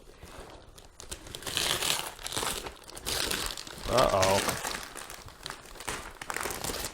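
Gift wrapping paper around a Lego Voltron box crinkles and rips in several bursts, close up, with a person speaking briefly among the rustling.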